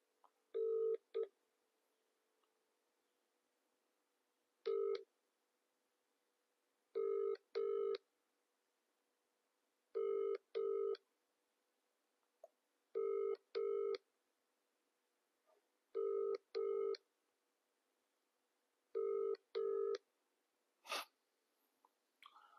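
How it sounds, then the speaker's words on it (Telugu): A telephone rings back on an outgoing call, sounding as paired double-ring bursts repeating at steady intervals of roughly three seconds, clear and alone over near silence, about seven cycles before a short click. "RS Praveen Kumar phone lift చేస్తాడో లిఫ్ట్ చేద్దాం."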